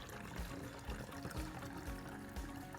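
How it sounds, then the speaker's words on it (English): Water poured through a funnel into a bottle makes a steady, close splashing trickle with soft gurgling pulses for a few seconds, fairly quiet and with no voices. "I'll use a funnel to pour some water"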